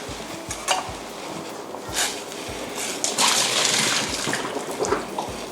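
Blanched vegetables for a tofu dish in oyster sauce are drained in a kitchen: water splashes and pours in bursts while pots and utensils clink and knock close by.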